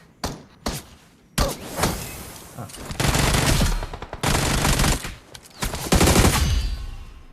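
Gunfire in the mobile shooter PUBG Mobile, a few sharp single shots followed by loud sustained bursts of automatic fire, close and punchy, with brief gaps between volleys.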